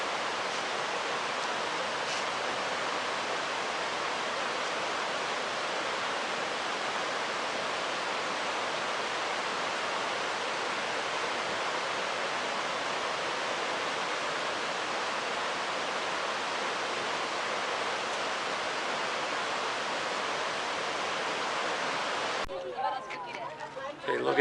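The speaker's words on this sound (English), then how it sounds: "Here we have another beautiful waterfall." Nevada Falls in Yosemite roars as a steady, dense broadband rush of falling water, continuous and loud for most of the clip before cutting off abruptly near the end.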